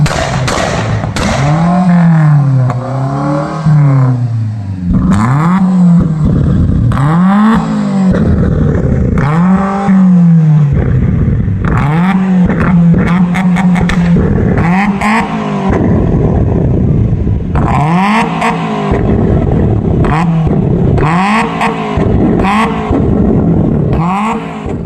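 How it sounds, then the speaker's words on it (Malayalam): Modified car in Nilambur, its exhaust altered to spit fire, revved hard and close in repeated loud bursts, each engine note rising and falling in quick succession for the whole stretch. "ആക്സലറേറ്റർ കൊടുക്കുന്ന സമയത്ത് കാതടപ്പിക്കുന്ന ശബ്ദത്തോടെയാണ് പുകക്കുഴലിലൂടെ തീ തുപ്പുന്നത്"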